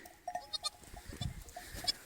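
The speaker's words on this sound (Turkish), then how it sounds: "Tam da keçi doğurmuş burada ya." Newborn goat kid bleats in short, thin cries on a snowy farm, several quick calls spaced across the moment at moderate distance, with soft rustling and faint background noise.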